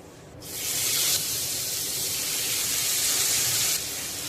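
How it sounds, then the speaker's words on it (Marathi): Kotya fish frying in oil on a tawa over a gas flame, prepared Agri style: a loud, steady hiss of sizzling oil begins after a brief quiet start and holds throughout, with no talking. "मच्छी फ्राय करण्यासाठी तवा गॅसवर ठेवलेला आहे तेल घालून घेऊया"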